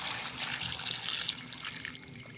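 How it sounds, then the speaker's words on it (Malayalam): Chopped vegetables being washed in water, a steady close trickle and splash of running water with small sloshing bursts throughout. "ഇനി അരിഞ്ഞു വെച്ച പച്ചക്കറിയും ഞാനൊന്ന് നന്നായിട്ട് കഴുകി"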